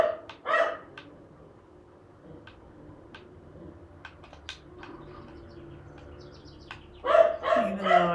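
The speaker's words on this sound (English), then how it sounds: "now I'm being distracted by my dog barking" A pet dog barks in short bursts indoors at a distance, a few scattered yaps followed by a louder cluster near the end, with faint room noise in between.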